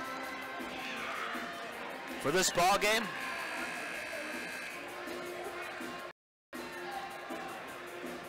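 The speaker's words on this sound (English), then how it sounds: "Great student section over there cheering on the Vikes" A student section cheers at a high school boys' basketball semi-final, a steady crowd roar with a brief louder burst of cheering, while a commentator talks over it throughout.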